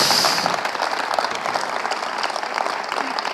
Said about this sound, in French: une salve d'applaudissements serait chouette pour eux.